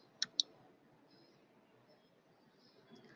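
Computer mouse gives two quick, sharp clicks close together near the start, then near silence with faint room noise.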